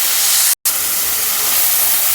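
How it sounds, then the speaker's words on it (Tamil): Onions sauté in a pan for a banana stem stir-fry, making a loud, steady hiss and sizzle that cuts out very briefly near the start. "கொஞ்சம் லைட்டாக வெங்காயம் வதங்கட்டும், ரொம்ப வதங்கணும்னு அவசியம் இல்லை, கொஞ்சம் லைட்டாக வதங்கட்டும்."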